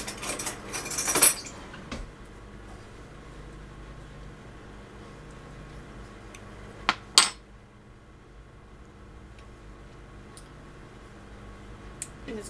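Metal spoon clinking against a cooking pot of chicken à la king: a cluster of bright clatters early on, then a couple of sharp taps midway and a faint one near the end, against quiet kitchen background.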